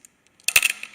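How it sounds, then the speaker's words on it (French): Dice rolled during a tabletop game, a quick burst of small hard clattering impacts after near silence, close and brief. "Lançons les dés pour la veuve noire."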